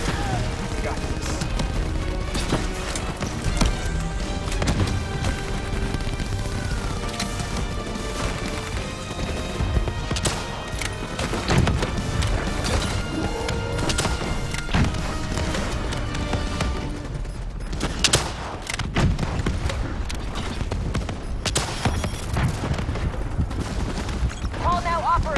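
Sustained bursts of automatic gunfire and crashing impacts ring out during a boss fight against the Manticore in Call of Duty: Black Ops 3, loud and dense throughout, with voices and game music mixed underneath.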